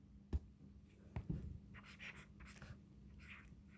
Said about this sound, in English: So we can write that there,